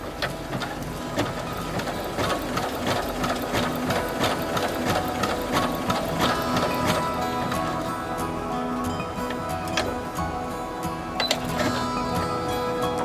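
A Rainbow sewing machine from Misingstory runs close by, stitching decorative patterns with a steady mechanical whir and rapid rhythmic needle clatter that shifts slightly as patterns change.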